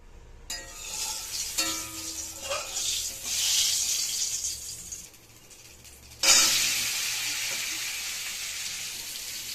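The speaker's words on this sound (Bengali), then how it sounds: "এখানে এই মশলাটা এখন ভেজে মিক্সিতে গুঁড়ো করে নেব।" Whole dry red chillies, fenugreek, cumin and coriander seeds sizzle in a hot pan, a steady hiss and crackle that swells sharply partway through, then settles into a loud, continuous fry.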